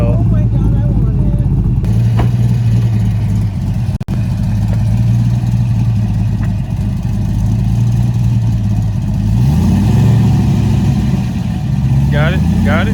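An LS V8-swapped Lexus IS300 pulls hard with a loud, deep engine note that rises and falls through gear changes, recorded from inside the car as people talk over it.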